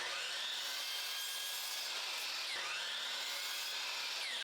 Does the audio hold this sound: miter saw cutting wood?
yes